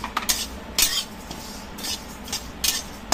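A metal spoon scrapes and clinks against a pan while fenugreek and cumin seeds are dry-roasted, irregular close taps and stirring rasps with quiet gaps between.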